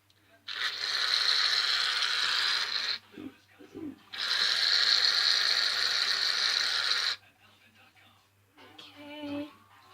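A can of shaving cream is shaken for slime-making, two long bursts of loud rattling hiss separated by a short pause, followed by a brief softer rattle near the end.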